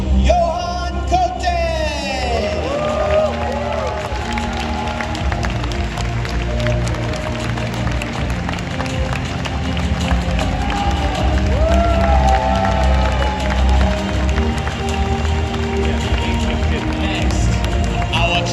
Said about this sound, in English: a big round of applause and congratulations for our trading card game junior champion, Johan Cote!